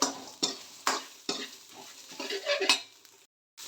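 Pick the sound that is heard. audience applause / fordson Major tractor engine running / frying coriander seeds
frying coriander seeds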